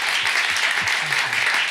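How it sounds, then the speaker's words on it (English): A short burst of audience applause at an art and citizenship talk, loud and close, with a brief murmur of voices at the end. "Please give them a big round of applause"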